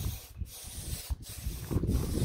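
Aerosol spray paint hisses from a can in three or four close, sustained bursts broken by brief pauses, used to coat something as a barrier against Scottish midges.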